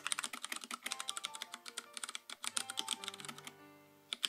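Rapid, steady typing on the keyboard of a Freewrite E Ink typewriter, with close, crisp key clacks in a dense run that thins near the end, and no talking.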